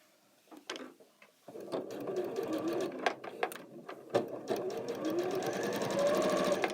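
A sewing machine stitches quilt foundation piecing in steady bursts, its rapid mechanical chatter starting and stopping several times, close by and fairly loud.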